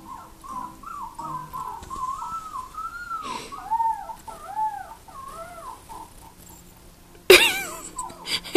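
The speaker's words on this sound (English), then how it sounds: "Are you watching the puppies, Precious?" Puppies whimper and whine in a wavering, high-pitched series, near and fairly quiet, ending with a sudden louder burst of noise.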